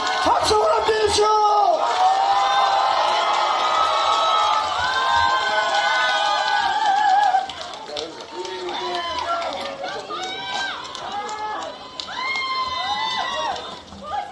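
Dense crowd at an outdoor political rally for the Democratic Party leader in Gongju, cheering and clapping loudly and continuously, with shouted chants and voices rising over the noise; a pause at mid-clip, then fresh bursts of cheering.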